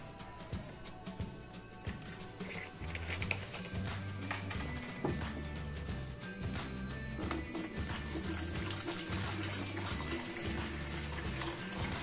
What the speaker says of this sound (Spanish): Vamos a iniciar colocando un litro de agua